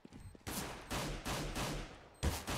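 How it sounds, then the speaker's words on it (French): Gunfire in Counter-Strike during a professional esports match plays as a string of loud, sharp shots close by, several bursts spaced irregularly over a couple of seconds with no talking over them. "Edward qui essaie de reculer comme il pouvait en tirant"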